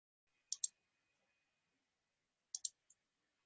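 A computer mouse clicks in AutoCAD: two quick double clicks about two seconds apart plus a faint single tick, crisp and close in otherwise near silence.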